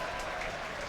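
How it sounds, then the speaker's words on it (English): A soccer crowd at a sevens tournament final claps for a chipped goal, a brief steady burst of applause with a voice talking over it. "takes the applause of the crowd"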